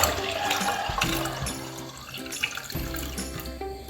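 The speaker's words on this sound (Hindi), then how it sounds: "अब आप इसमें ऐड करें पानी" Water pouring steadily into a pan of soaked red lentils in a home kitchen, a continuous splashing gush running throughout at close range with no talking.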